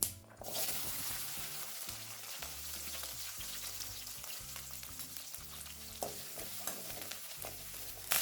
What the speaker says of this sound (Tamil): இப்போ ஒரு கைப்பிடி அளவுக்கு சின்ன வெங்காயம் சேர்த்துக்கலாம்.